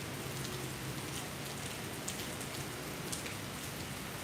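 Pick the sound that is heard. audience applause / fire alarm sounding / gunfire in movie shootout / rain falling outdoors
rain falling outdoors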